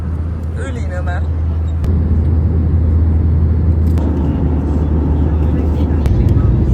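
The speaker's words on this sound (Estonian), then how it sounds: "Me maandume samal ajal koos Ryanairi lennukiga, nemad juba maandusid." Steady loud rumble and roar of a passenger jet landing beside a Ryanair plane, heard from inside the cabin as continuous engine and wind noise with a brief thump, while people speak faintly over it.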